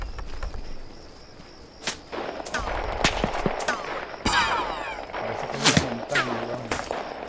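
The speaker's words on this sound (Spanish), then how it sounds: "Disparan, pero de lejos." Bursts of distant gunfire in the video game Arma 3 crack out repeatedly, scattered sharp shots and short automatic volleys amid a busy game soundscape with a brief voice.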